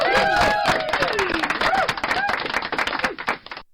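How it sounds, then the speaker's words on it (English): Podcast hosts clap in a sparse, uneven patter close to the microphone, mixed with overlapping talk and laughter from several voices before the sound cuts off. "Awkward clapping."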